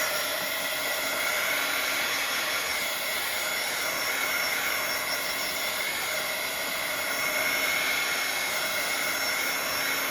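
A hair dryer blows steadily on a Bible journal page, a continuous close whooshing roar with a high whine that holds level for the full ten seconds with no talking.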